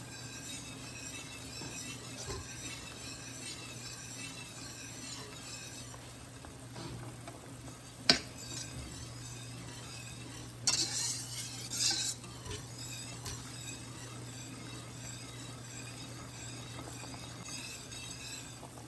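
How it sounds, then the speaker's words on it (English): A pot of rhubarb vanilla jelly at a rolling boil is stirred steadily, a continuous bubbling simmer with soft scraping, a spoon clinking the pot now and then, and a brief louder clatter of utensils midway. "And keep stirring."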